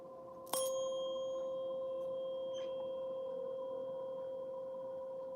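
A bell tone rings out sharply at the start, then hangs in a long, clear, slowly fading sustain, faint and alone in a quiet room.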